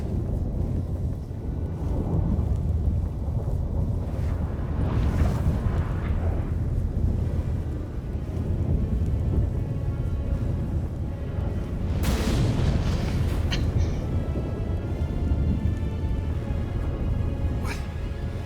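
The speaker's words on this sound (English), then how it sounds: "That a storm?" Thunderstorm in The Witcher 3, rendered as a continuous low rumbling roar with bursts of thunder around the middle and again near the end, loud and dense throughout, with music or ambience layered in.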